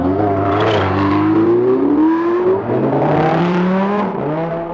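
A supercar engine on a Dubai road revs hard and steadily, its pitch sweeping up and down through several gear changes, loud and close with no talk.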